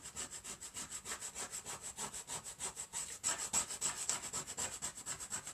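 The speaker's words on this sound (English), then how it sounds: "just use your scraper" Scraper rubbing transfer tape onto a wooden porch sign, a quiet, steady series of quick back-and-forth scraping strokes, close up, with no voices.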